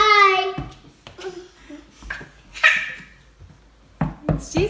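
A dog yelps and barks in short bursts indoors, mixed with excited children's voices and chatter nearby.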